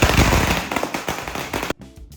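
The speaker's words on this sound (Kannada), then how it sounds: "ಆಜು ಬಾಜು ಮನೆಯವ್ರಿಗೆ ಗೊತ್ತಾಗ್ಲಿ ಪಟಾಕಿ ಹಚ್ಬೇಕಲ್ಲ" Diwali firecrackers set off outside a home after the evening aarti, a dense rapid crackle of loud pops and bangs that stops abruptly, followed by a few scattered faint pops.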